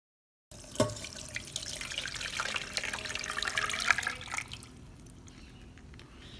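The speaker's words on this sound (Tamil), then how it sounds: "கீழே கலெக்ட் ஆகிருக்க அந்த ரோஸ் வாட்டர் வந்து இதை நம்ம கலெக்ட் பண்ணிக்கலாம், வடிகட்டி எடுத்துக்கலாம்." Homemade rose water is poured through a strainer and collected in a vessel below, a continuous close trickle and splash of liquid that tapers off into softer dripping, with no voices.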